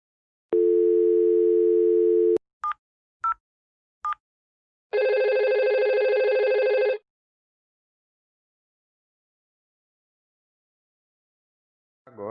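A telephone connectivity test on a networked phone line gives a steady dial tone, then a few short beeps from dialled keys, a longer ringing burst and silence before a brief final tone.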